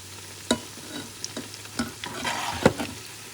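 Puerto Rican arepas frying in a pan as they are turned to cook the other side, with a soft steady sizzle under a few clinks and scrapes of a utensil, close and moderate.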